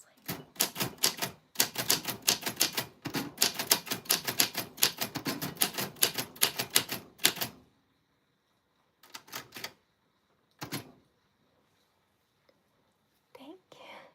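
Rapid, dense typewriter keystrokes hammer out a short phrase for about seven seconds, loud and close, followed by a few isolated clacks and a carriage sound after a pause; faint whispery voice traces in the background.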